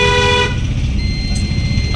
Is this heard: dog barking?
no